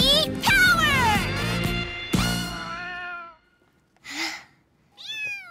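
Kittens meowing indoors in a room full of kittens, several high, drawn-out mews close by, the first cluster loud and overlapping, then two shorter separate cries after a brief pause.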